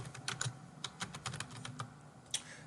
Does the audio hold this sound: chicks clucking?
no